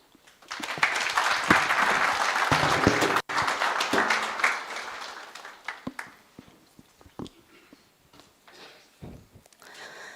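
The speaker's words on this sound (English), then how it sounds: "Another round of applause, ladies and gentlemen." Conference audience applauding at an innovation space launch: loud, dense clapping for about four seconds, then thinning into scattered claps and light shuffling as it dies away.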